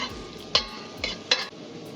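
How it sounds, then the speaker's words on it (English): Celery, onion, ginger and thyme sautéing in a pan: a soft continuous sizzle under three sharp spoon clinks and stirring scrapes against the pan, close and fairly quiet, no voices. "Now I will saute them. I am also adding some thyme in it and I will saute it."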